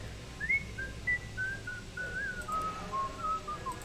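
A game character in Shadows Over Loathing whistles a wandering melody of sustained, sliding notes, steady and clear over a low background hum, with no talking.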